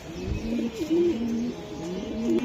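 Racing pigeons for sale coo in repeated, rolling low calls close by, several soft throaty phrases following one another over light background noise.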